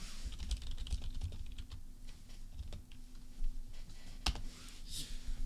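Fast typing clatters on a computer keyboard, with a continuous stream of quiet key clicks and a few sharper, louder strikes over a low hum. It is heard at close range during a call.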